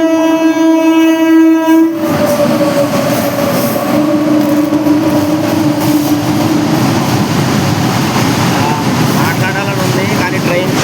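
A train at Tenali railway station sounds a long, loud horn, then rumbles past with heavy rolling noise and rhythmic clatter that continues for several seconds.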